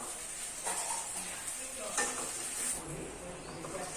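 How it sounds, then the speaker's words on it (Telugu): Cumin and fenugreek seeds being dry roasted in a pan as a spice mix for ladyfinger curry, with a steady soft crackle and sizzle and stirring scrapes throughout, close and moderately quiet with no talking. "మసాలా అంటే మసాలా కొద్దిగా జీలకర్ర, అలాగే మెంతులు వచ్చేసి కొంచెం డ్రై రోస్ట్ చేసుకోవాలా."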